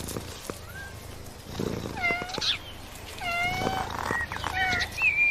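A cat reacting to catnip gives a string of drawn-out, wavering meows, several overlapping calls rising and falling close by, with no one talking.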